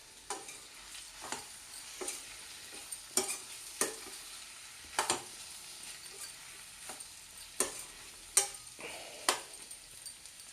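Mango pieces stirred in a frying pan, with a quiet steady sizzle under a series of sharp scraping strokes of the spoon, about one every second, close by.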